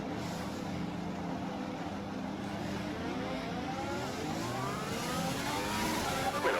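A Formula 1 car engine in the F1 2020 game revs at the practice start, a steady high whine with rising pitch sweeps as the revs climb, fairly close and continuous.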